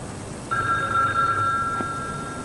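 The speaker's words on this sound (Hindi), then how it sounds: "शायद अकीला का फोन है" A steady electronic telephone ring starts abruptly and holds for about a second and a half over a low background hiss.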